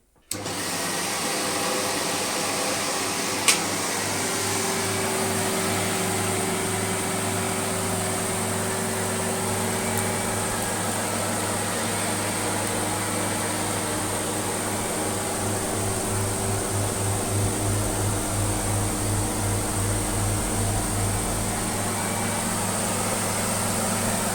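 A Beko Automatic X1 vacuum cleaner running over a piece of carpet, a steady loud motor whine with airflow hiss and a low hum, continuous throughout with one brief knock near the start.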